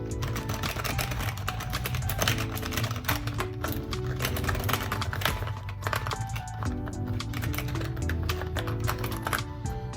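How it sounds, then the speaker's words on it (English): Steady, fast clicking of keys being typed on an LVLup gaming mechanical keyboard, continuous and fairly close, with a dense layer of other sound running underneath. "Just start typing on like one or two of the keys"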